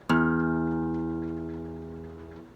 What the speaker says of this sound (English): The sixth string, the very top string, is an E, and it sounds like this.